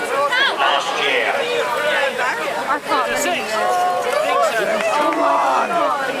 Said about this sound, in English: great to hear the applause and the encouragement